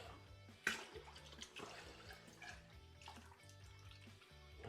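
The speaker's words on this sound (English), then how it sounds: "We're ready to pour it in." Cooled homemade toffee mixture poured into a batch of stout beer, a soft close splash and gurgling liquid pour with trickling continuing throughout.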